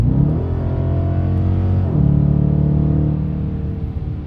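A Dodge Challenger R/T's engine pulls hard from 80 to 100 mph, loud and close, with a steady droning pitch that climbs, drops briefly at a gear change, then climbs again.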